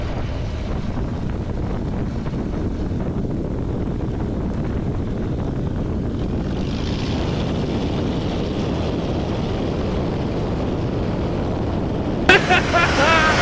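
Bush plane in a steep best-angle climb right after takeoff from a short strip, a loud steady engine drone buffeted by heavy wind noise throughout, with a sharp burst of rattle near the end.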